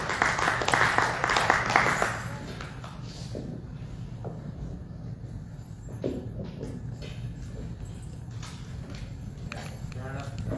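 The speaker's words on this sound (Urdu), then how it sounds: "مسیح کے نام کے ہم زوردار تالی بجائیں گے" A congregation at New Covenant Church claps loudly together in a dense burst over the first two seconds. After that it thins to scattered claps and shuffling under a steady room murmur.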